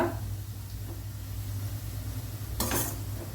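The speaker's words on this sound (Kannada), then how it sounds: "ಹೈ ಫ್ಲೇಮಲ್ಲಿ ಮಾತ್ರ ನೀವು ಆನಿಯನ್ ಫ್ರೈ ಮಾಡಿದರೆ ಆನಿಯನ್ ಬೇಗ ಫ್ರೈ ಆಗ್ತದೆ ಮತ್ತು ಈಕ್ವಲ್ ಆಗಿ ಫ್ರೈ ಆಗ್ತದೆ." Onions fry on high flame for Hyderabadi red chicken, a soft, steady sizzle with a short louder burst of stirring near the end, fairly faint and without talk.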